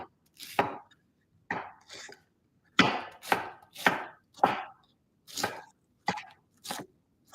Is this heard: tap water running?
no